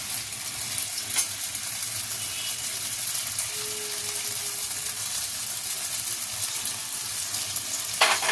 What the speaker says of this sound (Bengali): এইভাবে পনিরগুলোকে হালকা হাতে আমি ফ্রাই করে নেবো